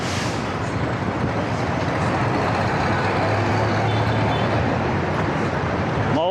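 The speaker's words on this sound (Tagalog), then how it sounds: "Challenges sa cycling sa ano, kasabay mo mga jeep, taxi, tricycle," Dense road traffic of jeeps, taxis, tricycles and motorbikes in a Philippine street, a loud continuous roar of engines passing close by, with no talking.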